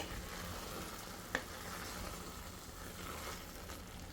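Carrot halwa (gajar ka halwa) frying in a pan gives a steady, soft sizzle with a single brief clink near the middle, and no voices over it.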